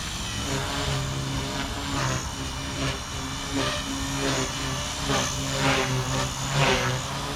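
A Blade Fusion 180 SMART RC helicopter hovers and flies with a steady, buzzing rotor whine, its tone rising and falling slightly as it maneuvers, fairly close and continuous with no talk.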